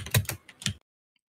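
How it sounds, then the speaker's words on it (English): Quick bursts of typing on a computer keyboard, a handful of close, crisp key clicks in an uneven rhythm that stop abruptly and leave near silence. "you can hear my keyboard nicely"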